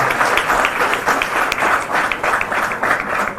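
An audience at a memorial event for martyrs claps loudly and continuously, a dense steady applause with no speech over it.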